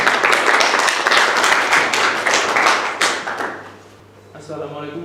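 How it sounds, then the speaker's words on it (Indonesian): Classroom applause for a presenting student group, a dense burst of many hands clapping loudly and continuously before fading out, followed by a brief voice. "Kasih tepuk tangan untuk kelompok 4"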